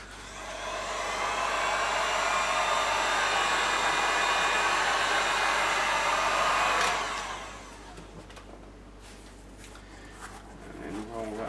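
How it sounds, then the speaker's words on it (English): A heat gun blows hot air onto armour foam for a costume suit, a steady loud whooshing whir for about seven seconds before cutting off, followed by faint handling sounds and quiet talk. "So out comes the heat gun."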